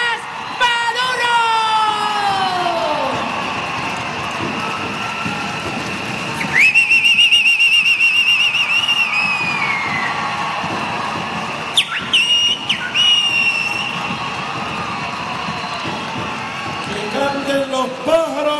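Crowd whistling and cheering for Venezuelan president Nicolás Maduro at a rally with revolutionary women in Maturín, Monagas, with shrill sustained whistles rising over a steady roar of voices and noise.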